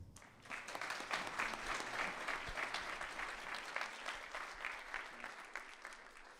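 An audience at a BIM forum applauds to welcome an architect to the stage: a swelling, sustained crowd clapping with dense, even hand claps that rise after a brief start and hold steady, fairly distant and soft.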